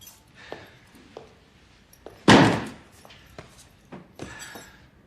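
A door is opened and slammed in a period drama set in 1930s Germany. One loud, heavy thud stands out among scattered light knocks and footsteps in an otherwise quiet room.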